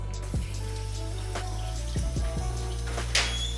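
Tap water runs into a kitchen sink while a whole duck is rinsed under it, a steady flow broken by several splashes and drips as the bird is moved under the stream.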